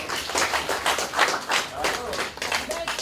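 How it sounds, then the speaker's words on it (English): Dinner audience applauding at a formal gathering, a dense crackle of many hands clapping at steady volume with murmuring voices mixed in. "a big round of applause"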